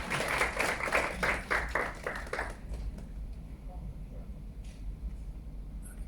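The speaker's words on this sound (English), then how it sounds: "Are we clapping hands for him?" Audience clapping at a business talk, a burst of hand claps in the first couple of seconds that fades out, leaving room noise and light murmur behind.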